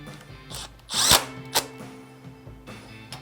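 A power tool drives a new bolt tight during an idler install, giving short bursts of whirring, the loudest near the start, then a sharp brief spin and a final quick pulse, with no talking.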